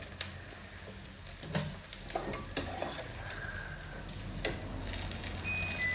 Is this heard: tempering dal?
yes